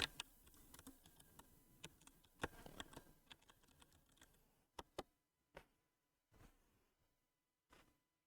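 Fingers tapping on a computer keyboard, quiet and close: a busy run of keystrokes at first, then thinning to a few isolated, separated clicks with silence between.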